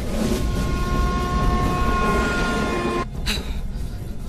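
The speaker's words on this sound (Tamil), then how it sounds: "ஓ ட்ரெயின் வந்துடுச்சு." A train rolls in with a loud, steady rumble and a high metallic screech, followed by a brief hissing burst near the end, in a scene from a Tamil-language film.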